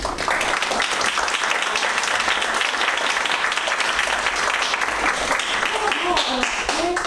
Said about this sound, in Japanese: 拍手を最後に。